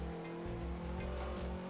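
A small custom-built car in the Garry's Mod ACF vehicle mod drives at about 80 km/h. Its engine drones steadily in a dense, continuous rumble with a pulsing low throb, close and alone.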